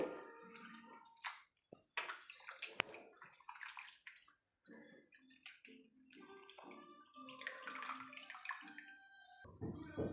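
Bitter gourd being washed by hand in a bowl of water for a sour curry, with irregular splashing, sloshing and dripping close by, broken by brief pauses and occasional clinks.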